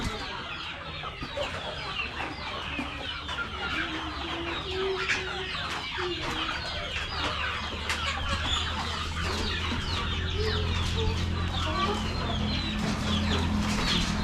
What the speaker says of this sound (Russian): Видите, у них какие курицы, они такие поджарые.